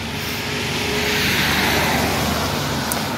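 Cars passing on a roadway in New Zealand: loud, close, continuous traffic rush that swells gently, with no talking over it.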